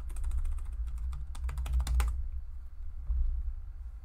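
Someone types quickly on a computer keyboard at a desk, a close rapid run of key clicks that stops abruptly, followed by quiet hum.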